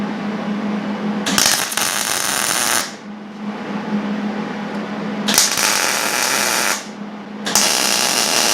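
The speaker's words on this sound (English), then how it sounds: "I'm just going to drill a hole in here and get this grinded down" A power drill boring a hole in metal whirs in three loud bursts with pauses of low idle hum between them, close by.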